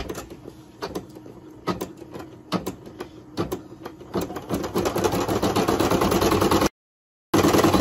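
An embroidery machine stitches an applique design for a hat, its rapid mechanical whirring and clatter building steadily and loud, alone without talk, then cutting out briefly before resuming.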